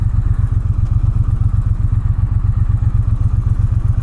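A Triumph Bonneville T120 Gold Line motorcycle engine on an urban ride, a loud close low throb with even rapid pulses at a steady pace.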